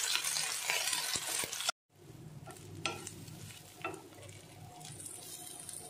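Freshly washed curry leaves hit hot oil in a pan with a loud, hissing sizzle that drops off sharply, then settle into a softer steady crackle with occasional stirring scrapes.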